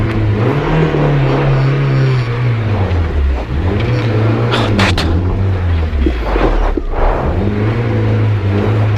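A Peugeot Saxo N2 rally car manoeuvres at a rally, its engine loud and close. It revs up and down in repeated swells, and brief sharp noises cut in partway through.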